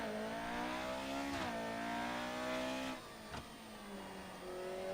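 A racing car engine from a Monaco race in a racing video game, revving high and steady, dipping briefly as the throttle eases, then climbing again.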